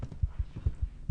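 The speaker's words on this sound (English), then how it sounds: "we hear the heartbeat because we are insane already" A steady heartbeat thumps in a ghost hunting video game, signalling low sanity: a looping lub-dub pulse of deep, soft beats roughly every fifth of a second apart, heard alone without talk.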